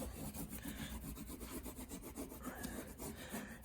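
Caulk is smeared along painter's tape on a garage wall with quick, repeated rubbing strokes that form a close, steady scraping rhythm.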